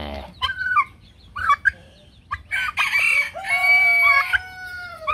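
Chickens in a farmyard coop, with turkeys and peafowl nearby, give several loud close clucks and squawks, followed by a long drawn-out crow.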